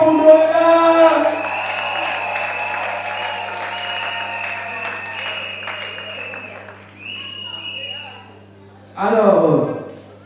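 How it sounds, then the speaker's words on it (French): Applause and cheering for the bride Noëlla at a customary Congolese wedding, a loud sustained crowd wash that fades out, then a brief renewed burst of clapping and whoops near the end, with voices mixed in. "Applaudissez tout d'abord pour Noëlla"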